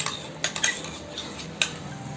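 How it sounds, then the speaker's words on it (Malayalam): A utensil clinks and scrapes against a pan while coconut paste is stirred into softened Chettinad chicken curry gravy, with a few sharp metallic taps over a quiet background and no talking. "തേങ്ങ അരപ്പ് ചേർത്തതിന് ശേഷം നന്നായിട്ടൊന്ന് മിക്സ് ചെയ്ത് കൊടുക്കുക"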